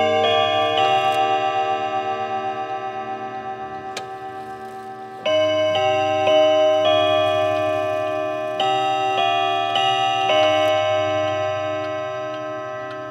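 Antique Girod clock with a French music movement playing its second melody on tuned metal chimes, a steady ringing tune with sustained overlapping tones and soft mechanical ticking underneath, close and clear.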